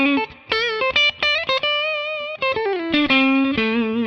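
A 2014 Gibson Les Paul Standard electric guitar plays a quick run of single notes and short phrases on a clean coil-tapped tone, bright and ringing, with brief pauses between notes.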